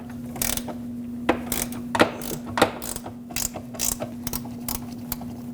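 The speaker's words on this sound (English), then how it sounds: "let's get our 14mm in here and unthread these mounting bolts" Ratchet clicking in uneven bursts as a 14mm socket unthreads upper control arm mounting bolts on a 2006-2015 Lexus IS250, close and alone with a steady hum underneath.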